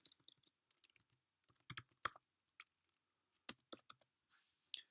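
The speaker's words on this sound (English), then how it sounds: "as I'm typing it in there" Quiet computer keyboard typing in bursts of sharp, irregular key clicks with short pauses, fairly close and alone while a title is entered into a WordPress site.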